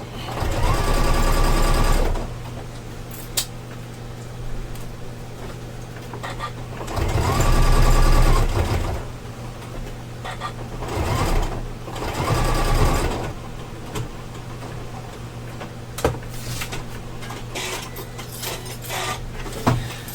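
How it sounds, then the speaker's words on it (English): Sewing machine top stitching a wire frame bag, running in loud close bursts of rapid mechanical whirring at the start, in the middle and near twelve seconds, with quieter handling noises and pauses in between. "so that is then my first piece of top stitching"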